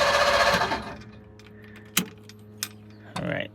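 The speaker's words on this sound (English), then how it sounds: "gonna give the old starter a try. Wow, that thing cranks now." A 1959 Ford Fairlane Galaxie's starter cranks the engine in a close, loud rapid whirring burst, followed by quiet clicks and a short second cranking burst at the end.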